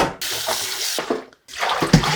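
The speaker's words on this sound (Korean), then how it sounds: "깨끗하게 헹궈보도록 하겠습니다." Running tap water pours steadily over a napa cabbage soaked in fruit-and-vegetable wash, with splashing and a short break midway before the flow resumes.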